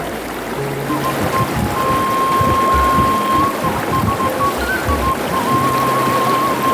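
A clear, spring-fed mountain river in Cipancar village rushes steadily and loudly without a break, with a faint thin tone drifting above the flowing water.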